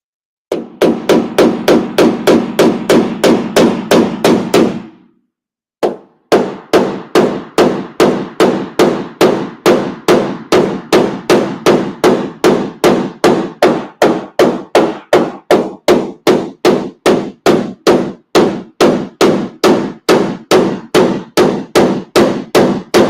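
Rapid, loud metallic hammer blows pound a dent down in the sheet-metal bedside of a Ram 1500 pickup truck in a steady fast rhythm, pausing briefly near the start before continuing without talk.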